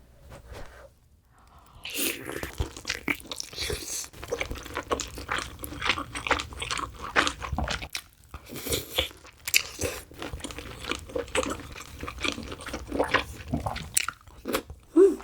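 Close, crisp biting and wet chewing of braised pork belly kimchi jjim with glass noodles, repeated crunchy bites and mouth sounds throughout, with a bit of talking early on.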